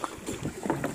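A fishing boat motor hums steadily at close range at sea, with wind buffeting the microphone and water noise around it.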